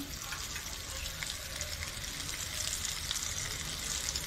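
Bangda mackerel frying in oil in a pan, a steady, moderately quiet hiss and sizzle that runs unbroken with no talk.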